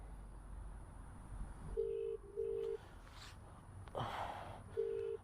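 A phone call goes unanswered while short, flat electronic tones beep at spaced intervals, faint and close, with a few small breaths and rustles between them.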